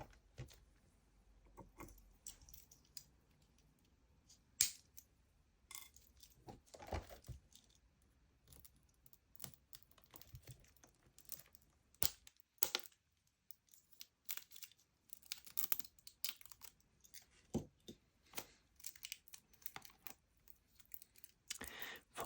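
Quiet, close unpacking of a Criterion Collection Blu-ray case: scattered crinkles of cellophane, soft tearing, taps and plastic clicks at irregular intervals, faint and intimate with no speech.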